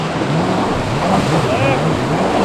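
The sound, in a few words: jet ski engine as throttle backs off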